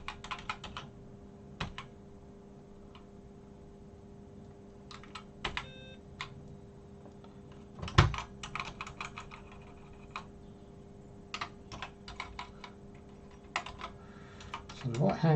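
Clicky keystrokes on a BBC Micro Model B keyboard come in scattered bursts and single taps over a faint steady hum, with a louder clack midway, no speech heard.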